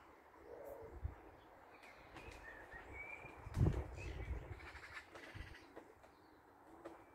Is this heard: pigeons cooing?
yes